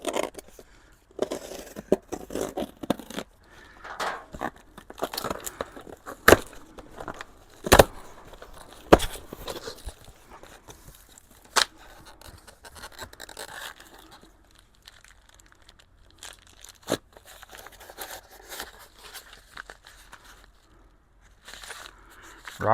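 A stapled package of new engine parts, including rocker studs and guide plates, is pulled open by hand, with scattered crinkling, tearing and rustling of paper and cardboard plus a few sharp snaps, close and fairly quiet.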